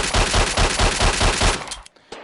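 Suppressed gunfire from a VR video game gun, a fast run of muffled, punchy shots in steady rhythm, loud and close, ending with a brief gap and one final shot.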